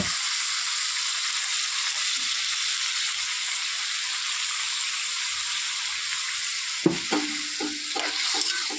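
Water is poured into a pan of frying jackfruit curry, sending up a steady loud sizzle, and near the end a few short scraping stirs sound against the pan.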